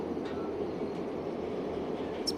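In the Derail Valley train game, train wheels roll along the track with a steady low rumble, plus a few faint squeals and one brief high screech near the end, with no talking.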